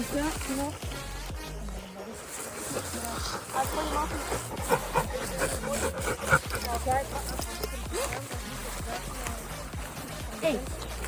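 Dogs at an animal shelter for strays, heard as scattered panting, paw scuffles and movement close by, mixed under steady conversational speech throughout.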